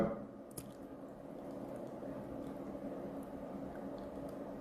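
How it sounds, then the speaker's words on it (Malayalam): Cooked ponni rice is tipped into a pan of tomato masala for tomato rice, giving soft close squishing and faint sticky rustles, quiet and alone with no talking. "ഇനി അതിലേക്ക് നമ്മൾ നമ്മുടെ വൈറ്റ് റൈസ് നമ്മുടെ പൊന്നിയരി വേവിച്ച ചോറ് അതിലേക്ക് ഇട്ട് കൊടുക്കാം"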